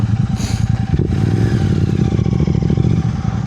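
A motorcycle engine runs steadily close by on a mountain valley road, with a low continuous rumble and light clatter throughout and no voices.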